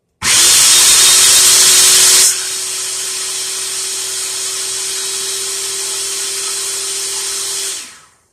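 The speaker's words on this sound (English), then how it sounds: "I'm going to give this a whiz in the food processor" A food processor whirs loudly, starting with a harsh high burst for about two seconds, then settling into a steadier lower motor whine before cutting off abruptly.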